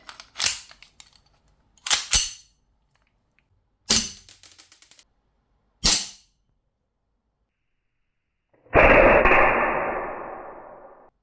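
Airsoft gun loaded with BBs snapping off four sharp, separate shots about two seconds apart, close and loud, followed by a longer rattling clatter that fades out.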